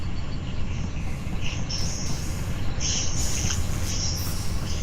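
A train passes in the Among Us video game as a steady, loud rumbling roll. Brief high squealing tones ride over it, and no one talks.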